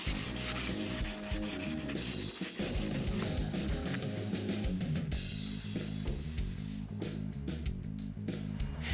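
Steady, continuous abrasive rubbing of sanding cured body filler on a car body repair, close and fairly loud, with a low mechanical hum underneath.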